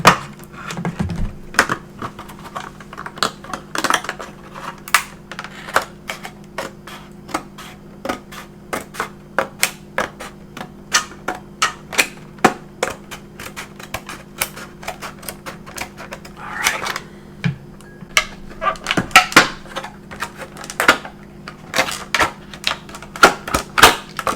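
Plastic fishing gear packaging is cut open from the back, close up: a long run of sharp, irregular clicks, snips and crinkles over a low steady hum.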